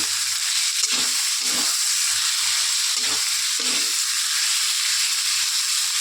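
A paste of ginger, cumin, poppy seed and nuts with green chilli fries in a pan, giving a loud, steady hiss broken by rhythmic stirring scrapes, with no voices.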